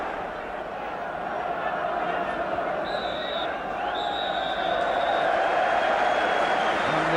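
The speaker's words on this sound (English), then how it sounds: "And the applause from the crowd" A 1980 Birmingham derby football crowd applauding at half-time, a broad, steady wash of clapping from a large stadium audience that swells slightly toward the end, with a commentator talking over it.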